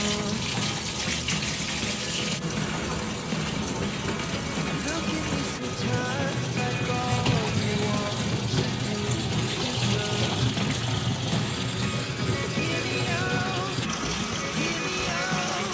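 Bathtub filling for a hot bath, a steady rushing stream of tap water pouring continuously into the tub at close range with no pause.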